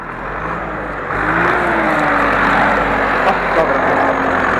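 Ursus 1014 Turbo tractor engine running during ploughing with a three-furrow reversible Kverneland plough, a steady low drone that swells slightly partway through, heard from close by with a voice talking over it.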